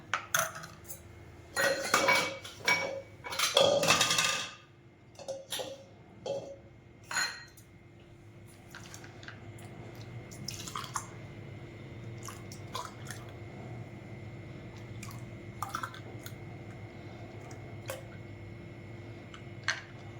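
Ice cubes tumble and clink into a bowl of homemade masala buttermilk, a quick cluster of sharp knocks and rattles near the start, then a few scattered taps and soft settling over a quiet kitchen background.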